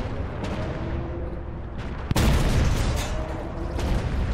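Video game gunfire rings out during a combat mission, with a sharp, loud shot or blast in the middle standing out over continuous rumbling battle noise.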